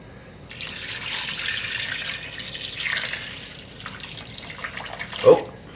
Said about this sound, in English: I'm just gonna add some water.